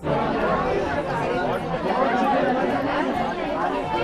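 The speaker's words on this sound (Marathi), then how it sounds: "एवढी गर्दी" Dense crowd chatter fills a packed Ganpati festival gathering in Mumbai, a steady babble of many voices close around with no single voice standing out.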